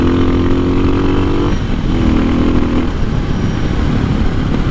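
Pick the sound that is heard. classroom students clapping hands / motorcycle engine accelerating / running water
motorcycle engine accelerating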